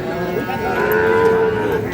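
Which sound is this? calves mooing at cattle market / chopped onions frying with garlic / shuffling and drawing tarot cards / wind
calves mooing at cattle market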